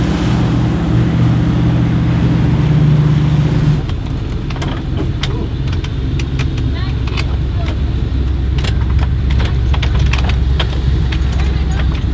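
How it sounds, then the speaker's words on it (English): A steady low houseboat engine drone runs throughout, with a voice talking over it early on and scattered clicks and rattles later. "Oh, Billy, who's driving this boat?"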